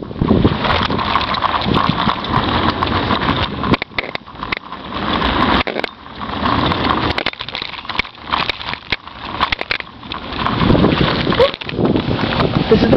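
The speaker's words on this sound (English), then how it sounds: "I'm on the scooter right now." Heavy wind buffets the microphone while a small motor scooter engine hums underneath, riding along outdoors in the rain, with gusts rising and dropping.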